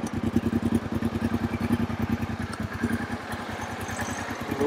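A carbureted Transalp motorcycle idles evenly after being restarted following a crash, its close, steady engine pulses thumping in a regular rhythm with no other sounds.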